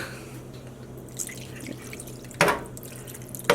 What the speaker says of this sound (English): So I'm going to add a little more water before we get started